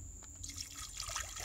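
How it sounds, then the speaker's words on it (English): Water poured into a camp cooking pan holding river clams for chowder, a soft steady splashing and trickling that starts partway in and continues close by, with no talking. "Add some water."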